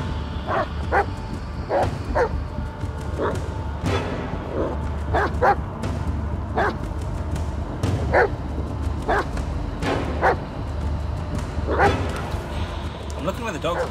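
A dog in the horror video game Blair Witch barks repeatedly in short sharp bursts with whimpers and yips between them, spread irregularly over a low ambient drone while someone talks now and then.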